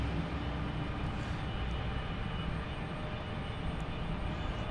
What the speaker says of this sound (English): we have American Airlines taking off, an A319